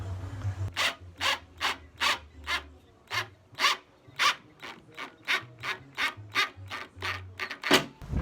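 Rhythmic rasping strokes repeat about twice a second, a close mechanical scraping as a Ryobi cordless drill bores a starter hole, with no talking.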